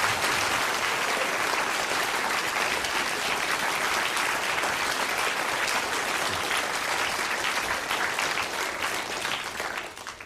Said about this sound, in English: And I think that both Andrew and Squeeze deserve a round of applause.